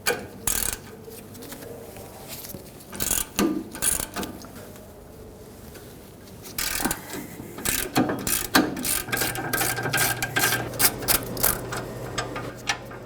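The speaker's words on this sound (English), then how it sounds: "use an 18mm socket, remove these 2 bolts holding the caliper bracket onto the rear axle" An 18mm socket on a ratchet backs out the caliper bracket bolts on the rear axle of a 2015-2020 Ford F-150: bursts of close, rapid pawl clicking separated by pauses and clanks, with no talking.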